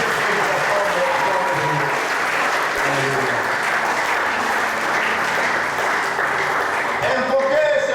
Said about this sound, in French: J'aimerais que vous puissiez acclamer pour Dieu et pas pour un homme.